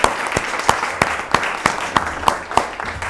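An audience at a press conference launching a French-language foundation applauds its board of directors, with sharp, evenly spaced claps that stand out above a dense wash of clapping for about three seconds.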